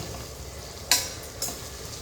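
Chopped tomatoes sauté in a pan with a steady low sizzle, broken by two short spatula scrapes as they are stirred.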